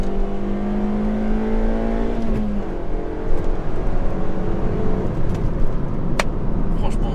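A Suzuki Swift Sport 136 driving at 60 km/h, heard from inside the cabin as a loud, steady engine drone and road rumble, with rising and falling engine tones and a voice talking over it.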